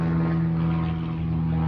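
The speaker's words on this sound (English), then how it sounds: "damn airplane." A propeller airplane's engine drones steadily with a strong humming tone. It is loud and unbroken for the whole moment, with no speech.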